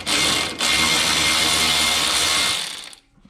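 A ratchet turns a 13 mm alternator bolt on a GM 3800 engine, giving a close, steady, loud mechanical clicking and grinding for about three seconds before it stops abruptly.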